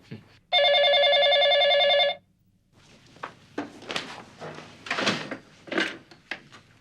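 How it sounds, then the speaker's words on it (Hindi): A telephone rings once with a loud, sustained electronic tone lasting about a second and a half, then cuts off, followed by clatter, knocks and rustling handling sounds nearby. "लो, ये फोन भी ससुरा हमरे ऋषभ भैया का नाम सुन के इमोशनल हो गया।"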